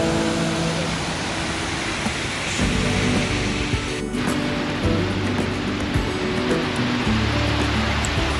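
Steady roaring rush of a waterfall in Bosnia, loud and continuous, with a brief sharper splash partway through.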